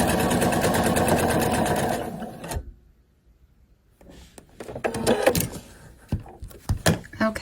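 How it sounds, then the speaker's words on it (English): A sewing machine runs steadily as it stitches fabric circles right sides together for a fat quarter Christmas ornament, goes quiet for a moment, then resumes in short stop-start bursts with handling clatter. "we're sewing them together, and we're sewing them right sides together and leaving a little bitty opening here"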